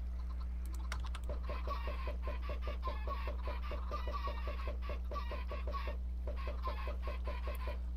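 Chickens in modded Minecraft give soft repeated clucks over a rapid, regular clicking rhythm that sounds like keyboard typing, with a steady low hum underneath throughout.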